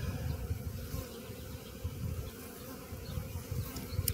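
A honeybee swarm drones steadily around a hive outdoors, a dense continuous buzzing of many insects close by, with no talk over it.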